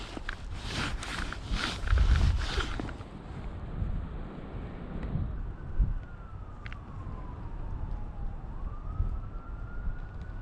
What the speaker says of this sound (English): Woo, this wind, bro.